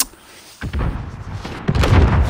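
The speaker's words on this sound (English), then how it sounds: "Ooh, airstrike, eh?" Airstrike explosions in a video game boom in two loud, heavy bursts after a quiet start, the second rumbling on with crackling debris until the end.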